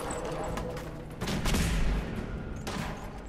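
Gunfire in the video game Fallout 4 rings out as a heavy, booming volley in the middle and a shorter burst after it, over a constant rumbling background.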